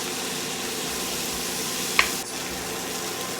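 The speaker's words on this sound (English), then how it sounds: "now I'm going to put my cauliflower. Let that saute for a couple minutes." Cauliflower sautéing in a frying pan gives a steady, even sizzle throughout, with a single brief clink partway through and no talking.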